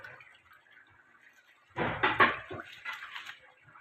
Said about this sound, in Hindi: अब इसके अंदर हमने राइस डाल लें